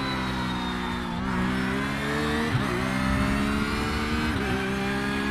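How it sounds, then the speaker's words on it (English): A race car engine in iRacing IMSA at Miami, a steady high-revving drone with a gear-shift dip and a brief pass-by swell, loud and alone. "there's a faster car approaching"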